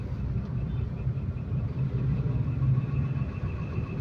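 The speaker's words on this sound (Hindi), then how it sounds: "तो इस तरह से ट्रैफिक जाम हो गई है यहाँ पे" Idling car engines in a traffic jam on a Pune street during voting time, a steady low rumble that holds throughout with no clear horns or voices.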